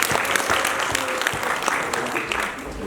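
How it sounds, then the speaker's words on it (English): Audience at an AI school lecture in Nepal applauding a speaker, a dense burst of many hands clapping at once, close and fairly loud, steady throughout the short span. "A big round of applause for the speaker."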